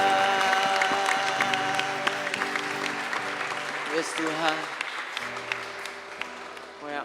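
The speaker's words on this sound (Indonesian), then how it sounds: "Beri tepuk tangan bagi Dia." Congregation clapping during a church Christmas service at a school, applause under live worship music and a leader's voice, fading toward the end.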